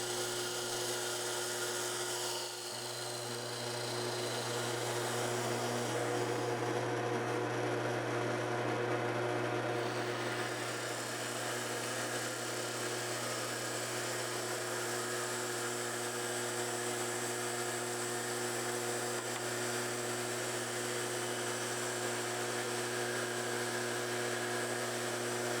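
A tool spinning in a chuck cuts circles in a workpiece clamped to a table, giving off a steady, high, whining drone that holds at an even loudness throughout.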